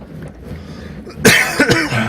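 A sharp, scratchy cough bursts out after a quiet stretch, followed by a second rougher hack and throaty rasp, close to the listener.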